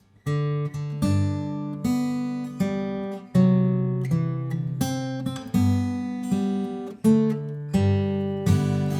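A plucked guitar plays the Happy Birthday melody in steady sustained notes, each attack ringing out in a clear, moderately loud rhythm with no voices.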